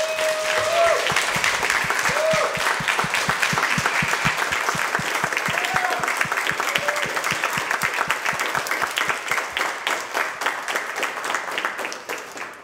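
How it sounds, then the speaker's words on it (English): An audience in a church applauds after a Christmas cantata, with dense, sustained clapping that slowly thins and fades, and voices briefly heard beneath it. "Could we all give them a round of applause?"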